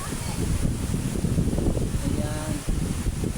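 Strong amihan wind gusting steadily against the microphone in a loud, continuous rumble, with someone speaking briefly over it.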